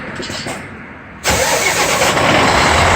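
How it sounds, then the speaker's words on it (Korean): A 520-horsepower Hyundai truck engine fitted with a turbo cranks briefly and then catches, settling into a loud, steady, close diesel idle. "시동이 빨리 걸 거라고"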